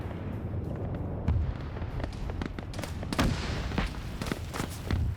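A turret blown apart by a missile strike in a military video game, heard as a string of deep booms and sharp blasts, several explosions spaced across the moment, loud and rumbling.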